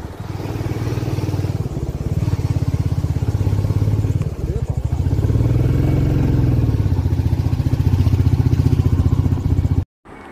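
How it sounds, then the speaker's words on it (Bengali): A Royal Enfield Bullet carrying a pillion rider cruises at a steady 30–40 km/h on a smooth paved mountain road. Its low, thumping single-cylinder engine note runs continuously and loud with a rhythmic beat, then cuts off abruptly at the end. "তো একটা নির্দিষ্ট বেগে বাইক এগিয়ে চলেছে। বাইকের স্পিড 30 থেকে 40 কিলোমিটার মতো থাকছে কাঁটাতে।"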